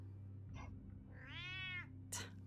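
A pet cat lets out a long, drawn-out meow at a stranger, close and fairly quiet, framed by a couple of brief softer vocal sounds.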